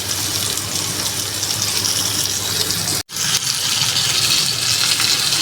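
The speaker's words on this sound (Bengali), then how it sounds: "ভেজে নিচ্ছি।" Rohu fish frying in a pan with cauliflower and potatoes, a steady loud hiss and sizzle of hot oil running continuously, broken by one brief drop to near silence midway before the frying noise resumes.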